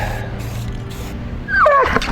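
Dog gives a short, high, wavering whimper close by, after a stretch of soft outdoor background on a homestead.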